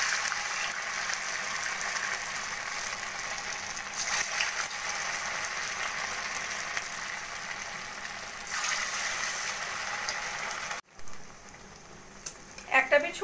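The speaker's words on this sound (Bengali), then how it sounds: "এবার একে একে আমি সাবুদানা পকোড়াগুলো ভেজে নেব।" Sabudana pakoras deep-fry in hot oil in a pan, giving a steady, loud hiss and crackle that swells midway and then drops off sharply near the end.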